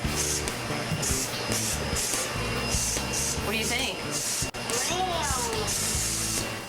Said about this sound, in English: can I get a spray tan, please?